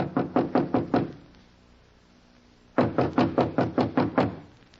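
Knocking on a door in a 1940s radio crime drama: two bursts of about six or seven firm, rapid knocks separated by a pause, close and loud with no voices.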